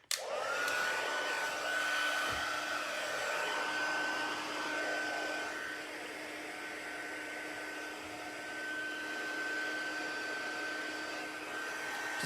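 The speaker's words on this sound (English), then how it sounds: "I'm about to do the heat embossing, so you might want to turn your volume down." A heat embossing tool blows hot air in a continuous whining whoosh with a steady high tone, close and unbroken from start to finish.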